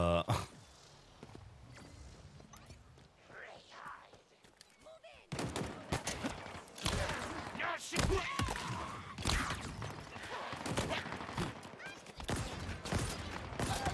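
Distant gunfire crackles in Halo Infinite, a dense run of rapid shots and thuds after a quieter start, with a voice talking over it.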